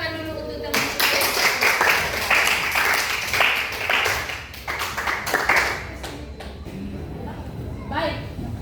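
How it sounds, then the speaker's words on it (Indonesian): Classmates clapping together in a lesson, a burst of many hands that swells, holds for several seconds and then thins to scattered claps, fairly close and loud. "Tepuk tangan dulu untuk teman-teman."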